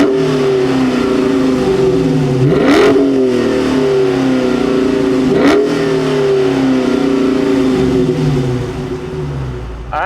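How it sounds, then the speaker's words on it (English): A 2023 Dodge Challenger Scat Pack Swinger muscle car engine, loud and close, idling with a rough burble and then rising in two sharp revs before settling back down, no talk. "let's fire it up and hear what it sounds like."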